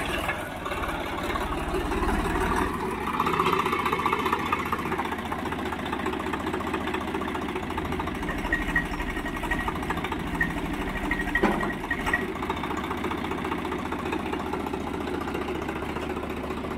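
A Swaraj tractor engine runs steadily during a test of a second-hand unit, giving a continuous low, throbbing idle rumble at moderate distance with no speech over it.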